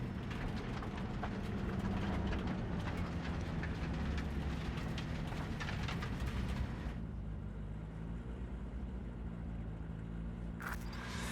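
A large train rumbles steadily in Cyberpunk 2077, a dense low mechanical drone with hiss that drops away about two-thirds through, leaving a quieter hum and a brief burst near the end.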